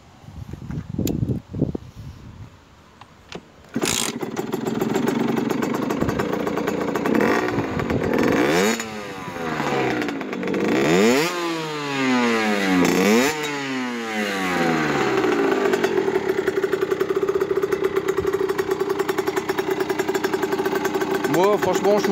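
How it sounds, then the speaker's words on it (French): A Rieju MRT Trophy motorcycle fitted with a Leovince X-Fight 3 exhaust starts up, then idles and is revved repeatedly in rising and falling sweeps, loud and close throughout. "Je vais la démarrer pour vous faire écouter le bruit un petit peu."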